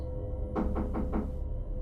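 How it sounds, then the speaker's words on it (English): Four quick, evenly spaced taps rap against a sliding glass door to a backyard, muffled and close, over a steady low hum. "A tapping at the sliding door to the backyard."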